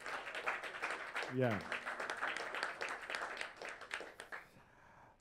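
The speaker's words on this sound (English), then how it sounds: "A round of applause to them, please." An audience at a tech summit hangout claps in a short burst of applause, a moderate patter of many hands with a brief spoken exclamation over it before it fades out.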